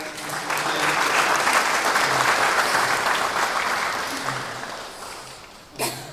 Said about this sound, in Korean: 잠깐 일어나시고 박수하겠습니다